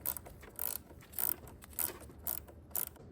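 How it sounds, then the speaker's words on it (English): A ratcheting wrench works a battery terminal on a 1993 C4 Corvette in a tight space, giving a series of short, crisp clicking bursts at a steady rhythm, close up. "Ratcheting wrenches are the way to go here within this tight clearance area."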